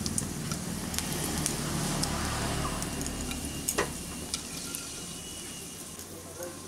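Panch phoron and cracked cardamom pods fry in hot oil in a wok, giving a soft, continuous sizzle broken by scattered crackles and pops, fairly quiet and close.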